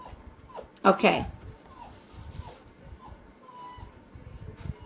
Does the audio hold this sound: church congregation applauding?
no